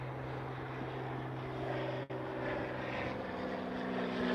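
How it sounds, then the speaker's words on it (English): A propeller plane drones overhead in open country, a steady low hum with a faint whine, moderately distant and continuous, with one brief dropout midway. "It's a beautiful plane coming."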